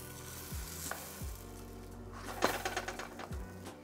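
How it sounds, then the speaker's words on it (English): Vegan egg-coated French toast frying in a preheated pan, giving a steady sizzle that swells and crackles midway, with a faint low mechanical hum beneath and no talk. "Coat both sides of the bread, and then just fire it into a preheated pan."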